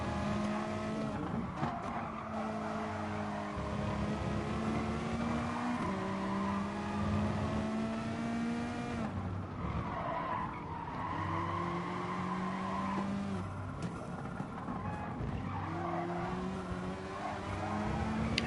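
BTCC race cars lapping the Catalunya circuit in GT Sport, with engines revving and shifting up and down while tyres squeal and skid through corners, loud and continuous from an onboard view with no talking.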